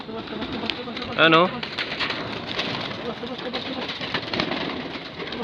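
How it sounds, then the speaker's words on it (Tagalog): Pigeons in a breeding loft coo with a short, rolling call heard clearly once near the start, over steady background noise and someone talking nearby. "Look for sale mga kalapatids, pati mga ibon."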